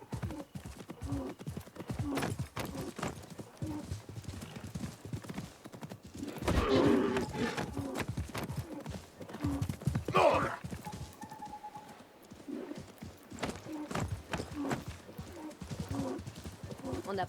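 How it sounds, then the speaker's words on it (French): Horse hooves clip-clop steadily in the Assassin's Creed Mirage video game, a quiet rhythmic patter running under frequent talking, with a brief whinny-like burst partway through. "Mon dromadaire va plus vite que ton cheval."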